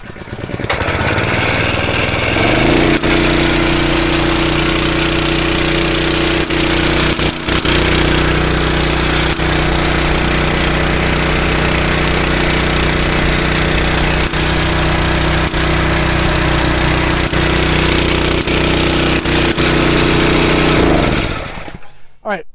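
DMC SCU100P gas-powered SCUBA and paintball HPA compressor engine starting up, then running loud and unbroken with a steady droning rumble and a rattling mechanical clatter before cutting off at the end.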